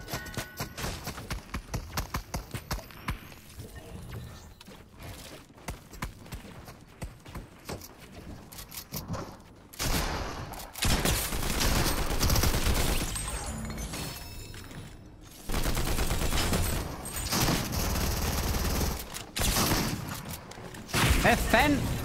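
Suppressed gunfire in Fortnite comes as rapid muffled pops and clattering bursts amid footsteps and other game noise, while someone talks over much of it.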